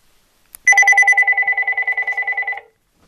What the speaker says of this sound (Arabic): غادي ناخذ التليفون تاع الدار وغادي تسمعوا التليفون ديالي